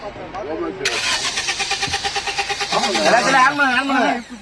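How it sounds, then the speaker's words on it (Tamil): A vehicle engine starting on a roadside: a cranking burst catches into a rough, pulsing idle close by, with people talking over and around it. "வண்டி ஆன் பண்றீங்க"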